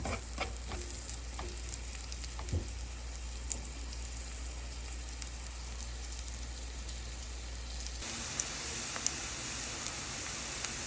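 Chopped onions fry steadily in hot oil for a begun bahar, a dense, even sizzle with scattered pops and crackles. It runs without a break and grows slightly brighter and livelier toward the end.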